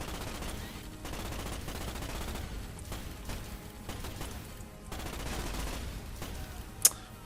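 Gunfire rattles in the 2006 video game Starship Troopers as repeated bursts of automatic fire, fairly faint and continuous, with one brief sharp crack near the end.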